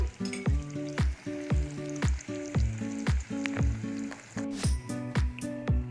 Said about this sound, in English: So when you saute them in ghee or butter like this, be very careful that they don't break.